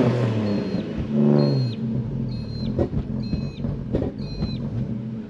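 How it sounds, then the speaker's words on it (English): A Nissan S13 revs hard with a rising, throaty engine roar, joined by tire squeal and short repeated chirps as a wheel spins, loud and close. "Oh wow, just one tire just spun instantly."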